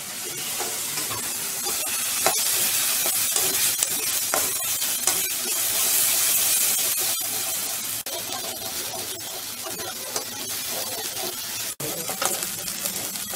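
Spice paste of ground ginger, coconut, green chilli and garlic sizzles steadily in a pan, a dense continuous frying hiss with occasional light clinks and stirring scrapes, no talking.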